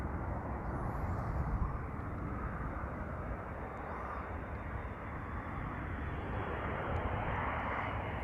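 KLM Airbus A330-200 arriving at Amsterdam Schiphol Airport, a steady, loud broadband engine roar that holds evenly for the whole stretch with no talk over it.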